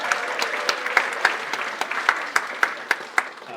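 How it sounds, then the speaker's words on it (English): An audience at a library show claps, a few distinct sharp claps standing out over a softer steady patter of applause for several seconds, without talk. "So let's give the sun a round of applause."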